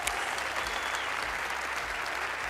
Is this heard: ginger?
no